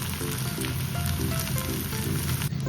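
A dosa crisping on an oiled pan, a continuous close sizzle with fine crackling pops and a low steady hiss, heard alone without voices.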